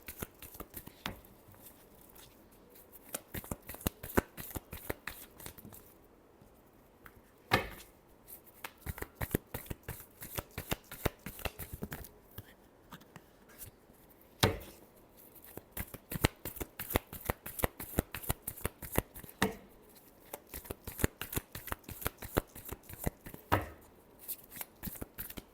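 Tarot cards shuffled steadily at close range, a long run of crisp rapid riffling bursts with brief pauses between passes and no talk over them.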